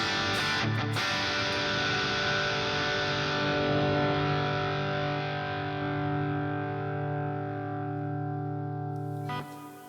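An electric guitar played through the Neural DSP Archetype Plini amp plugin with a 57 mic tone rings out as a loud distorted sustained chord after a quick strummed attack, then is cut off near the end.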